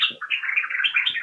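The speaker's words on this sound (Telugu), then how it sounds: "ఇంకో పక్షులు కూడా వచ్చినాయి." Birds chirp and tweet in a fruit tree laden with ripe fruit, with bright, close calls that run almost continuously and a few lower fluttering sounds underneath.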